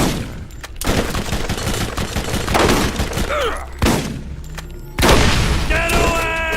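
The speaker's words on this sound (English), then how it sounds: "That's called a crossfire." A heavy crossfire erupts in Borderlands as dense rapid gunfire and booming blasts overlap without pause, with loud shot bursts and explosive thumps continuing throughout.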